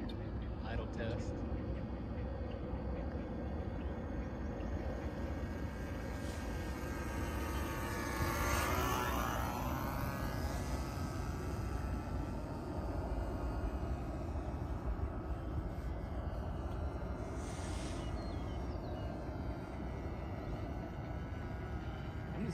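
Steady drone of a small glow engine idling on a 1974 Super Pronto model airplane, heard outdoors at moderate distance over continuous wind noise.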